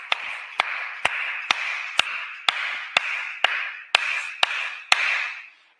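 A yoga instructor claps steadily to pace breathing, eleven sharp even claps about half a second apart, close and alone, with a soft rushing breath-like hiss under them.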